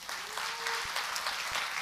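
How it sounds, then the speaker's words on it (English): Worshippers at a Sunday service clap together during a National Worship Convention gathering, a thick continuous applause with sharper individual claps rising out of it. "Can I ask you to clap your hands once again?"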